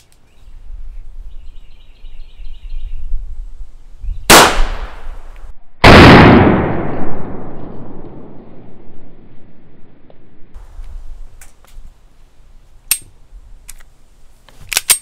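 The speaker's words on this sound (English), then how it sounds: "my next round is gonna be a 9mm Luger full metal jacket from my Beretta 92FS" Two loud, close 9mm Luger full metal jacket shots from a Beretta 92FS handgun fired from a prone position at concrete cinder blocks outdoors, each followed by a long ringing decay, then a few faint clicks.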